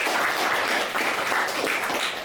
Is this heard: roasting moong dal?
no